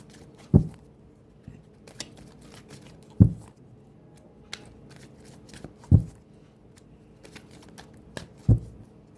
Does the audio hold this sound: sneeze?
no